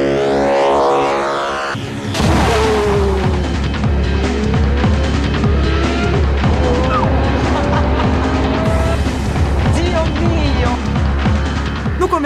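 Lamborghini Murciélago LP640 with a six-speed manual gearbox driven on narrow country roads in Italy: a loud, steady engine roar with rising and falling revs, preceded by a brief different sound before the car noise takes over, with talk over it.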